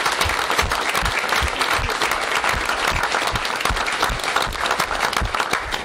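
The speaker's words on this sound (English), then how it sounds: "I'd also like to give an extra round of applause to our law enforcement and firefighters and EMS who are here." A township reorganization meeting audience gives a sustained round of applause for law enforcement, firefighters and EMS, with steady dense clapping from a large crowd throughout.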